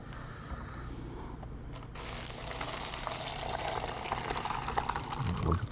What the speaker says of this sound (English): we'll just go ahead and add the rest of the liquid